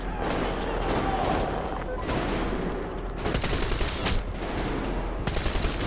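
Dense gunfire in the Metro Exodus video game, a continuous loud barrage of rapid automatic bursts and overlapping shots that never stops, with brief voices mixed in beneath the shooting.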